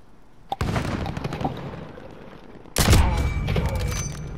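Gunfire in the Call of Duty video game: a sharp shot near half a second, then a dense, loud burst of fire from about 2.8 seconds that carries on to the end over background game noise.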